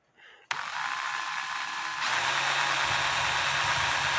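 An electric drill whirs steadily after a brief click, then its pitch and intensity shift upward partway through as it keeps running close by, while repairing an antique clock's wooden plate.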